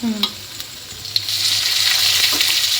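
Peanuts and roasted gram fry in oil for a Kalaburagi-style chivda, starting with a few light clinks and stirs before a loud, close, steady sizzle swells and holds to the end.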